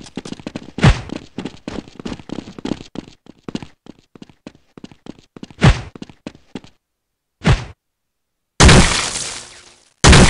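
Counter-Strike 1.6 Zombie Escape grenade and gunfire, a rapid string of sharp percussive shots and bangs, then a few heavy blasts separated by brief silences, loud and close.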